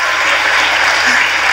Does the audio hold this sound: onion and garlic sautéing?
no